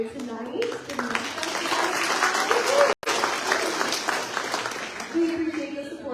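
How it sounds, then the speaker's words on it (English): Sustained audience applause and clapping fills an awards ceremony honoring young professionals, steady and full for several seconds, with a couple of brief vocal cheers rising above the crowd and a momentary dropout midway. "while we're still clapping and keeping it going"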